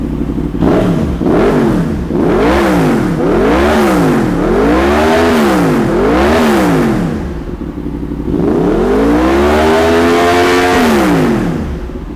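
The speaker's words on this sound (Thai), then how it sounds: "เดี๋ยวเราฟังเสียงรถเครื่องยนต์กันครับ" A car engine revs repeatedly in rising and falling surges, loud and close, then holds one long sustained rev before settling back to idle.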